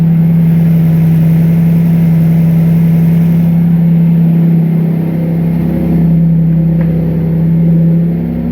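A 1999 Nissan Frontier with a turbo engine runs steadily up close, its loud, even drone holding throughout with a slight swell partway through as it revs.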